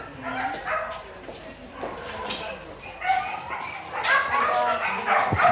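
Several dogs bark and yip in overlapping bursts at an animal shelter, fairly close, with a person talking beneath the commotion.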